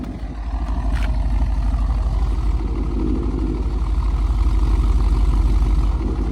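2017 Ford Mustang GT V8 with a Corsa exhaust idling, heard from behind the car as a steady, loud, low rumble with a fast even pulse that holds throughout.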